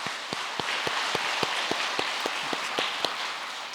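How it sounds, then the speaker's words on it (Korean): A small church congregation at a Sunday service claps in unison, a slow, steady rhythm of distinct, evenly spaced claps carrying on throughout. "하나님께 영광의 박수를 올리겠습니다."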